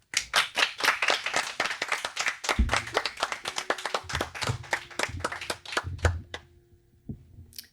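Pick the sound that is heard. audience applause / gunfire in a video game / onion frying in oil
audience applause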